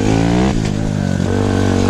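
An SSR150R motorcycle engine pulls hard in fourth gear, a loud steady drone of close engine roar with a brief dip in the middle before it settles back into its even pull.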